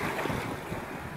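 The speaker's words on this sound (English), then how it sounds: "Today it's all about the ocean breeze." Ocean waves and a steady sea breeze at a beach on Phu Quoc Island, Vietnam: a continuous, fairly loud rushing wash of surf and wind with no pauses.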